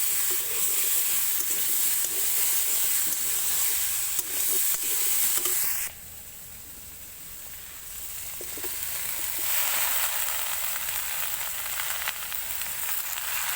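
Malabar spinach hisses and sizzles as it is added to a fish-head curry in a pan. The steady frying noise drops suddenly partway through, then slowly builds back to a softer, even sizzle.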